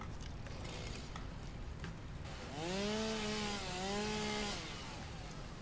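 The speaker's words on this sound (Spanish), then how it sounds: "Tenemos una motosierra." Chainsaw felling trees in the video game Satisfactory, a revving whine that rises from about 2.5 seconds, holds steady with a slight dip, then fades, over a low rumbling game background.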